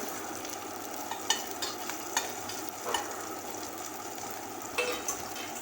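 Crushed ginger and chopped green chilli frying in a pan for masala bread toast, a continuous hiss with repeated scraping stirs and light spoon taps, no voices.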